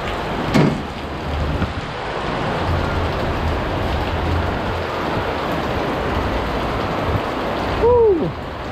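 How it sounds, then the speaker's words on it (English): Steady rain falls outdoors in Guam during a Liberation Day parade, a dense continuous hiss on a tent and the ground nearby, with a brief faint whistle near the end. "Of course, it's gonna rain on Liberation Day, right?"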